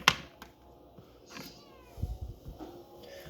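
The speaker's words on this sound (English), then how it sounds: "I'm sorry, Bubby, these meatballs have onions in them and they're not for kitties" Cat meowing near a kitchen where meatballs are being cut up, a few short meows mixed with knife chops and soft handling noises on the counter, close and fairly quiet.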